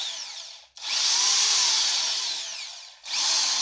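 A Dorkel DRD 500 electric drill, a cheap household model made in 2020, runs in two loud steady bursts, whining at high speed, with a short stop between them and a brief spin-down before each restart.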